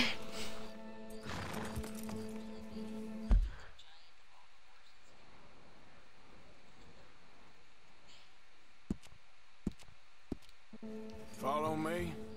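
Horse hooves clip-clop over a steady ambient bed with music, a few sharp isolated knocks, and a horse whinny near the end, in the video game Red Dead Redemption.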